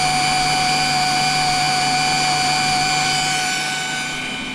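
A plasma cutter cuts into a Case IH Maxum 5140 tractor wheel rim, giving a loud, steady high hiss and drone that holds throughout and eases slightly at the end.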